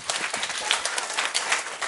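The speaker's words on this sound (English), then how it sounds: "So one clap for our soldiers and captain." An audience at an Everest Base Camp expedition talk claps steadily for soldiers, a dense, even patter of many hands close by with no one speaking.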